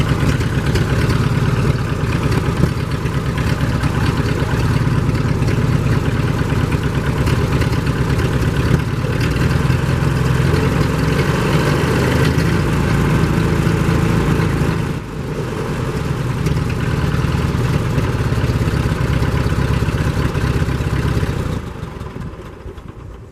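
A 1949 Ford 8N tractor engine runs steadily at a constant idle, a continuous mid-to-low mechanical drone with no talk, easing off only in the last second.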